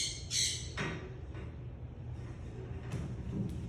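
A pet bird squawks sharply twice near the start, followed by quieter, fainter calls and chirps in a calm indoor room.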